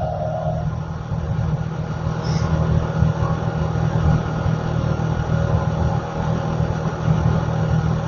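A new TC motorcycle engine running on fresh 10W40 oil, idling smoothly as a low, even rumble that holds steady throughout at moderate loudness, with no talking.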